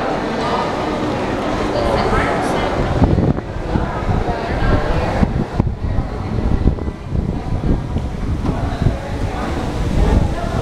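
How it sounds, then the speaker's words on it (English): A steady breeze at the Iberostar resort in Cancun buffets the microphone with continuous low rumbling gusts, heard alongside a distant wash that could be surf. "Beautiful weather, breezy."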